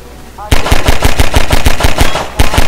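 Rapid automatic gunfire in the video game Half-Life 2 Episode 3: a loud, steady string of close shots firing in even rhythm, a brief gap, then another burst.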